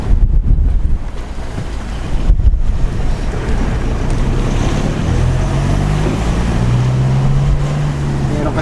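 Steady, heavy wind rushing and buffeting the microphone, with a low engine-like hum underneath and no voices.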